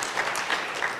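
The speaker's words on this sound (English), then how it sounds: "I wanted a little bit of applause." Lecture-hall audience applause during a science talk, a short steady patter of clapping at moderate level with no voices over it.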